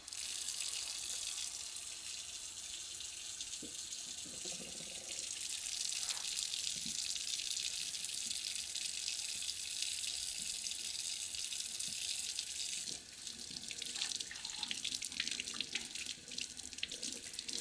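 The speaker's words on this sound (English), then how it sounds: "After you handle any fish, gotta wash your hands." Tap water running into a kitchen sink during hand washing, a steady soft hiss of flowing water with small splashes and a brief change in flow near the end.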